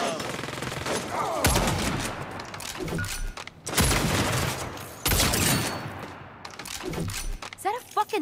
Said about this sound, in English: Is that a fucking minigun?